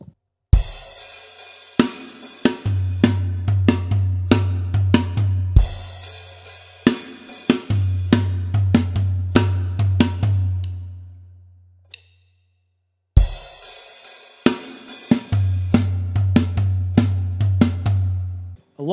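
A drum kit plays the final bar of a song's chorus: steady cymbal and snare hits over a low sustained tone, repeated three times with short silent gaps between the takes.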